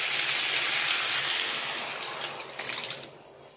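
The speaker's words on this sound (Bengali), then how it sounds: "এবার আমি টক জলটা দিয়ে দেবো।" Sour tamarind-style water poured into a hot pan of fried vegetables over a high gas flame, a steady broad rush of liquid that sizzles and splashes, easing off toward the end.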